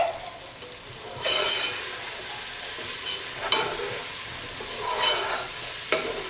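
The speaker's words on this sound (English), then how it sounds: "And then we're gonna wait till the onions start to turn translucent, and then we'll add in our garlic. Go ahead and give it another good stir." Onions fry in a pot, a steady low sizzle broken by several louder scraping bursts as they are stirred, with no talking.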